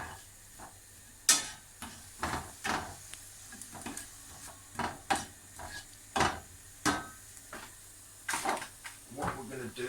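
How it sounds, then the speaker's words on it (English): Onion fries in a pan for a fresh cannelloni sauce and gets stirred, with soft sizzling and repeated scraping knocks of the spoon. Someone talks on and off over it. "Give that a stir because you don't want to burn the onion."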